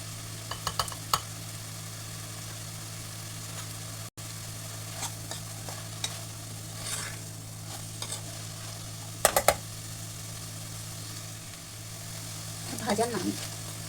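Upma vegetables sautéing in a pan, with intermittent stirring scrapes and a faint low sizzle over a steady background hum, joined by occasional soft speech.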